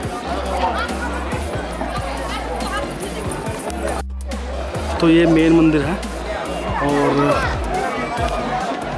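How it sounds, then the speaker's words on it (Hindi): A dense crowd of devotees chatters and murmurs at Hadimba Devi Temple in Manali, a steady close hubbub with footsteps and someone talking over it. "काफ़ी भीड़ है। देखिए मंदिर में दर्शन करने के लिए ये लाइन लगी है घूम के"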